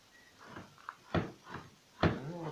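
A creaky sofa is opened up for inspection, giving a few wooden knocks and creaks in uneven bursts, close by and fairly loud, with no talking.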